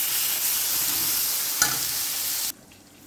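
Tomatoes with turmeric powder sauté in a pan, a loud continuous sizzle with a brief stirring scrape, ending abruptly as the sound drops to quiet.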